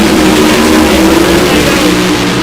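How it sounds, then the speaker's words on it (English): Funny car drag racing engines roar at full revs at a dragway during Summer Nationals qualifying, a loud, dense, unbroken engine blast that fills the whole moment. "Revs come up."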